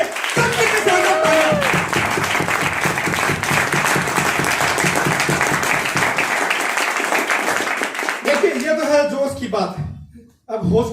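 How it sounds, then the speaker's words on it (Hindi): Loud, sustained audience applause fills a motivational seminar hall, steady dense clapping and cheering throughout, with a voice cutting in near the end as the clapping trails off. "एक बार शानदार तालियां सब के लिए, सबके साथ"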